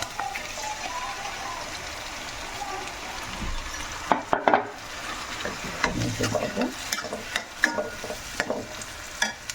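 Mashed tomatoes go into a sizzling pan of country chicken curry with mint, fried and stirred; a steady sizzle runs under irregular scraping stirs and soft clatters of the spoon against the pot.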